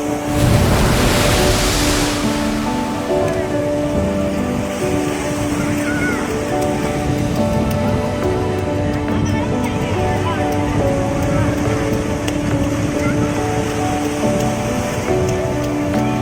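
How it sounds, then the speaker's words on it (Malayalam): Calm sea at Velankanni beach washing gently ashore in a continuous, fairly loud surf roar, with faint tonal background sounds running underneath and no clear talk. "കടൽ വളരെ ശാന്തമാണ്"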